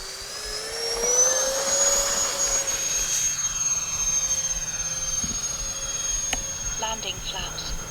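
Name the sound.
FMS A-10 Thunderbolt RC jet taking off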